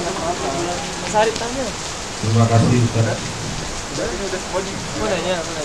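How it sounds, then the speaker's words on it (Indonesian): Steady rain falls throughout at moderate level, a constant hiss beneath a voice and other talk. "karena kondisi sedang hujan ya"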